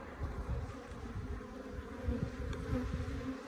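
Dense, steady buzzing of many Africanized honey bees close by under a shed floor, a low droning hum that holds throughout with no voices.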